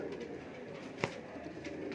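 Breeder pigeons coo softly in a low, steady murmur, with one brief sharp knock in the middle. No one speaks.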